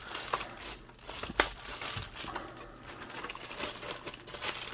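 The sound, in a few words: unwrapping sealed plastic bag of desk stand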